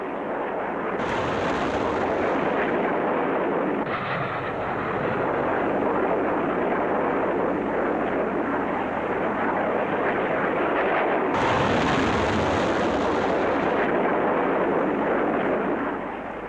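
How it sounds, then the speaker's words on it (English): A missile launched by two booster rockets before a sustainer motor takes over, heard as a sustained loud roaring blast that swells, eases briefly, then surges again, dense and powerful throughout, with no voices. "On launch, it's propelled by 2 booster rockets for a second before the sustainer takes over."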